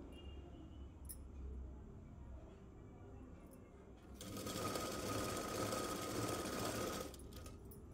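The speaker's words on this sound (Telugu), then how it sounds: "సర్కిల్ ఈ విధంగా ఫోల్డ్ చేసి స్టిచ్ వేసుకోవాలి." An electric sewing machine stitches a folded fabric circle for an umbrella dress, running in one steady, rapid burst of about three seconds amid quiet room sound with faint background voices.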